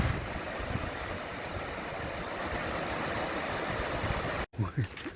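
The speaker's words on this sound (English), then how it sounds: "This is Mill Creek." Mill Creek near Natural Bridge flows in a steady, broadband rushing wash of moving water heard up close, continuous until it cuts off abruptly near the end, followed by a few brief handling thumps.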